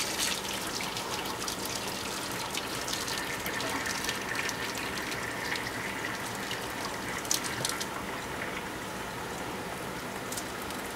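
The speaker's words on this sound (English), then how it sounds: "we're going to drain it until all the water's out" Steady rushing splash of water poured out of a cooking pot of potatoes, a continuous gushing stream with faint clinks, no voices.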